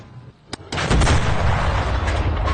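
A tank cannon fires a shell in the video game Enlisted, with a sharp click followed by a loud, close boom that rolls into a sustained rumbling roar.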